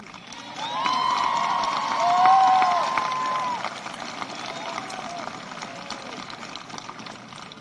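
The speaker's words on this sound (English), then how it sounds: "CAPS teachers, please rise and receive a round of applause from the graduates" Graduates at a Crater High graduation ceremony applaud and cheer for their teachers: a dense crowd roar with shouts and whoops swelling in the first seconds, then settling into fainter scattered clapping.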